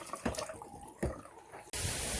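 Water gushes from a tap once a fully clogged pipe is cleared, a steady hissing rush that starts abruptly after a few faint knocks and drips.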